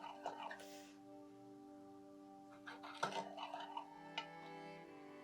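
Cooked dal and green chillies are mashed in a pot on a home kitchen stove, with intermittent metallic clinks and soft scraping that cluster in short bursts over a steady tonal background hum.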